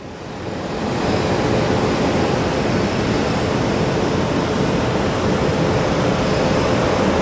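Small plane approaching to land at Phoenix Sky Harbor, a loud, steady broadband engine roar that rises within the first second and then holds without a break.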